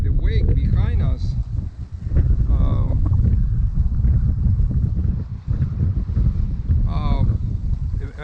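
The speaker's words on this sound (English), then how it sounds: "I wanted to show you the wake on the back of the boat" Wake water rushing behind a sailboat off Hvar Island, Croatia, a loud continuous wash mixed with heavy wind buffeting the microphone, with a person talking over it throughout.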